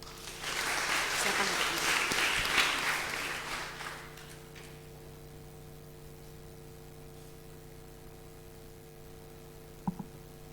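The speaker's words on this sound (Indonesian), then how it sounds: "Kita berikan tepuk tangan." A congregation at a Sunday church service claps for several seconds, a broad burst that fades by the midpoint, followed by quiet hum and a brief spoken instruction with a couple of small knocks near the end.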